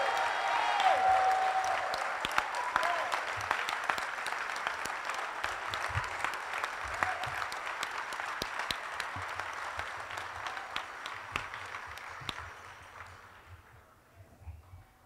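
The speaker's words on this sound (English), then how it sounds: "another round of applause" Sustained applause from a commemoration audience at a Martin Luther King Jr. event, a broad steady wash of clapping that slowly thins and fades toward the end, with no voices over it.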